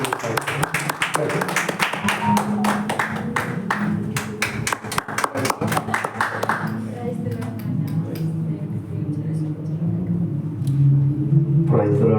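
A congregation at a prayer hall claps steadily for several seconds over a low musical hum, then the clapping fades and a low rumbling backdrop continues.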